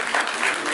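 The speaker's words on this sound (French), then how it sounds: "Vos applaudissements, s'il vous plaît." Audience applause at a New Year's wishes gala in Brussels, a dense steady wash of clapping hands sustained evenly through the short moment.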